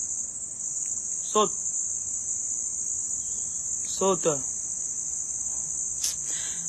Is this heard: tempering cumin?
no